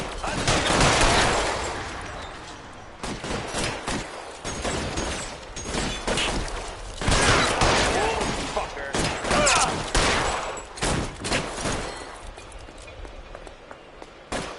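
Rapid gunfire in the video game L.A. Noire, bursts of loud shots in dense volleys with pauses between, mixed with shouted voices in the background.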